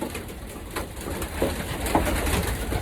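Pigeons coo at close range in a breeding loft in Japan, a few soft throaty calls over a steady hum of background noise.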